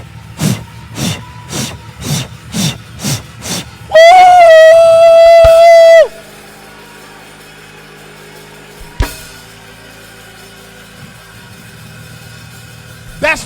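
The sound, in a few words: voice imitating a train chugging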